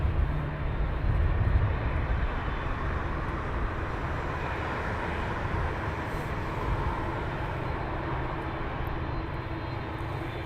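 A Boeing Dreamliner at Heathrow Airport produces a continuous, broad engine rumble at moderate distance, steady throughout with a slight swell near the start.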